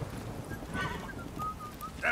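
Faint hoofbeats of a horse in The Witcher 3 set a soft, steady clip-clop under quiet ambience, with a brief higher whinny-like call near the end.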